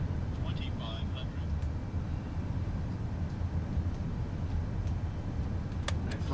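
Boeing 737 MAX jet engines spooled back to idle during approach in Flight Simulator 2024, a steady low broadband cockpit rumble and hiss running throughout, with a pilot voice talking over it.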